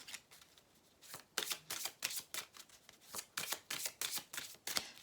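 Tarot-style cards being handled and laid out for a reading: a steady run of soft, crisp flicks and slaps, close and quiet, with no voices.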